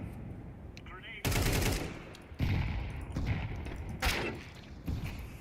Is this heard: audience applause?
no